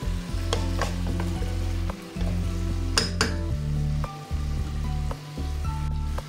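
Desi chicken with chopped coriander being sautéed in an open pan, a continuous close sizzle with rhythmic stirring scrapes and occasional light clinks of the spoon, with no talking.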